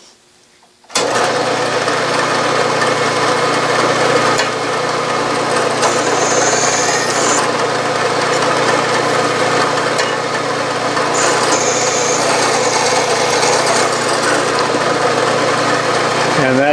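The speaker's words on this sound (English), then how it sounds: "Now I've got a quarter inch chucking reamer" A lathe motor starts abruptly and runs loud and steady while a quarter-inch chucking reamer reams a hole, a continuous whirring hum with faint higher whines drifting in and out.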